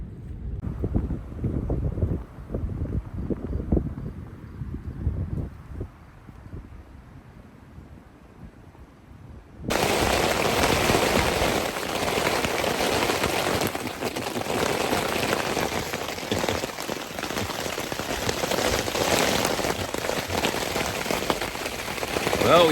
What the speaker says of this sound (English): It did rain, by the way.